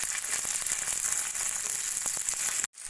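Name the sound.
onion, beetroot and green chillies frying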